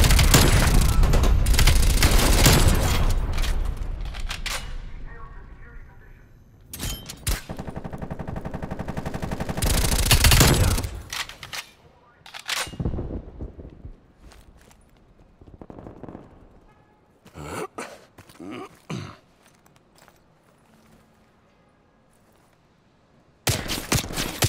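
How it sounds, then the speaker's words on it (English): Incoming artillery strike in Call of Duty: Black Ops Cold War: heavy booming blasts and rumbling explosions mixed with gunfire, loud at first, then scattered sharper impacts fading toward near silence before a final burst. "Net call, incoming artillery."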